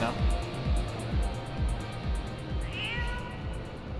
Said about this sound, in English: Oh, the cat. The cat's back.